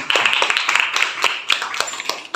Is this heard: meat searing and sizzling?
no